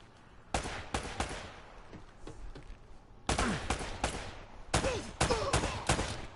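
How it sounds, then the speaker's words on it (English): Repeated bursts of gunfire from an enemy shooter in the video game Uncharted, sharp cracks in clustered volleys, loud and close, with short lulls between the salvos. "I don't even know where this dude is shooting from."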